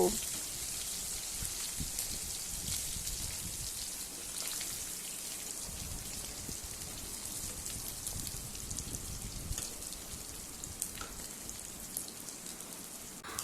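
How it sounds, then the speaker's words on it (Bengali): Small puti fish fry in oil with a constant, even sizzle and faint crackles, fairly quiet and steady throughout. "এবার এক পিঠটা বেশ ভালো করে ভেজে নেব"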